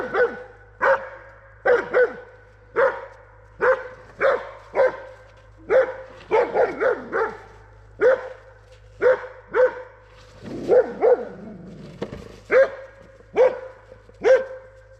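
A dog barks repeatedly, loud and close, in sharp single and double barks spaced about a second apart, with a short whimpering stretch midway and no talking.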